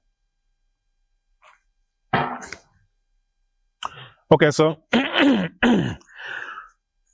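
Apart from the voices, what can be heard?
coughing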